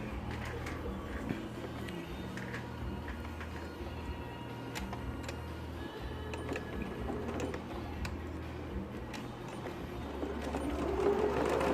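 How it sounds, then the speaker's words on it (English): A sewing machine runs steadily, stitching a quarter-inch seam on a zip pocket, with a low continuous motor hum and faint rhythmic needle ticking that swells slightly near the end. "So this is sewing it on with a 1/4 inch seam."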